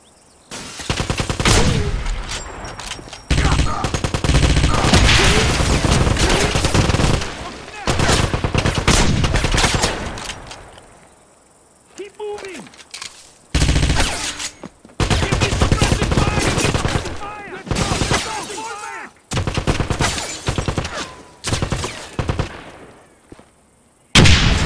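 Gunfire in the Wolfenstein shooter, a hard-difficulty farm battle: long loud bursts of automatic fire and rapid shots, broken by brief pauses and shouted voices, with the shooting starting and stopping in dense overlapping volleys.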